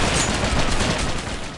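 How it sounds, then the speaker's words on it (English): Enemy gunfire in the video game Red Faction II, a dense, loud burst of rapid automatic shots running continuously without pause. "Oh, that's Molov firing that"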